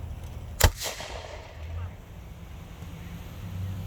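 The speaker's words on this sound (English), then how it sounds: "that spark that will ignite this gun" A single gun fired during a historical firing demonstration at Vicksburg National Military Park, Mississippi: one sharp, loud outdoor report with a short decaying tail, then wind rumble.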